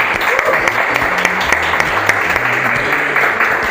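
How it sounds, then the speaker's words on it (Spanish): A church congregation applauds in a dense, sustained round of clapping that fills the room steadily, with a voice faintly audible underneath. "esta iglesia lo recibe con un aplauso como siempre lo hacemos"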